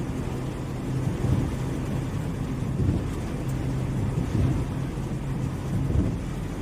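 A truck drives through rain on the Eluru bypass past the Kalaparru toll gate, with a steady low engine and road rumble and a constant wash of rain and tire spray, heard from inside the cab.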